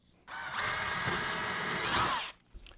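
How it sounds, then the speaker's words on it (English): A power drill whines steadily for about two seconds while pre-drilling and driving a screw into wood at the corner of a holiday train layout build, close and loud, spinning down at the end. "Now on the corners, I'm just going to put 1 screw, pre-drill, 1 screw connecting them just for a little extra."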